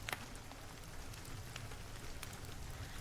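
Steady rain pattering on surfaces, soft and distant, with scattered sharper drips throughout and no voices.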